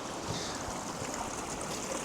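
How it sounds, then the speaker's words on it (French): A woodland stream flows on a walk through the woods, a steady, fairly close babble and rush of water, no voices. "Et c'est encore un ruisseau."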